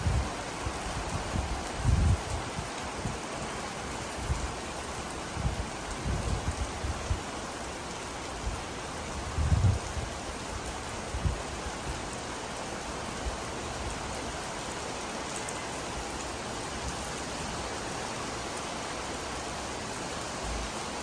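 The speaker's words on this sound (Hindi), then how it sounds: "बेहतरीन बारिश हो रही है।" Heavy rain falling in Makkah on an afternoon, a dense, continuous hiss of drops on surfaces with occasional louder splashes and thumps nearby, steady throughout with no voices.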